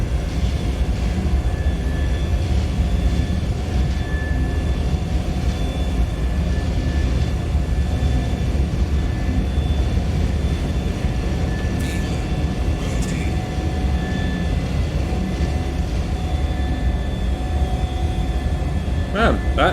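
Embraer E190 jet engines at takeoff thrust, heard from the flight deck as a steady, loud, broadband roar that holds without a break, with crew voices faint underneath.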